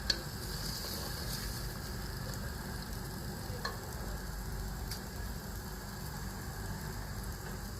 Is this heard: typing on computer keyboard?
no